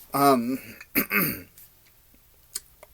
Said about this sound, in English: I had to cough and didn't want to cough on the screen anymore.